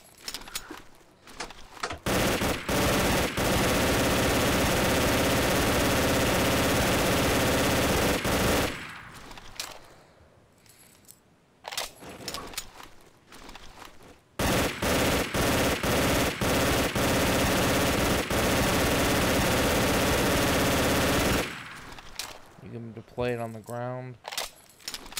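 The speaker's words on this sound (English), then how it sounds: "Alright, next is the MG42." An MG42 machine gun fired in Garry's Mod, long loud sustained bursts of rapid automatic fire separated by pauses, with a voice talking near the end.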